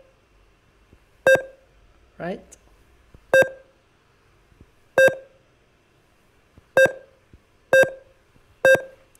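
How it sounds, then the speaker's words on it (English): Sharp electronic beeps from a LEGO WeDo 2.0 checkpoint robot that counts passing objects, five short evenly spaced tones sounding near and loud, with a brief spoken word between the first two. "this checkpoint robot detects a change in distance, then it's going to increase the counter by one and make a beep as well"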